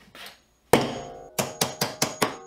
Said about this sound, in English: So let me just show you this magnetic nail starter in action.